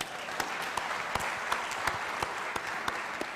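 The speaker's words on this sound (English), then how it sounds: "give this moderator a huge hand clap as well" An audience at a public lecture claps for the moderator, a moderate round of hand claps with distinct individual slaps spaced irregularly, heard from a little distance and fairly subdued.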